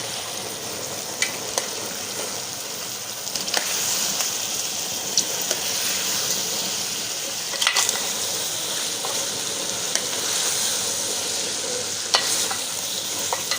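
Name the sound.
potatoes and peas frying and being stirred in a pan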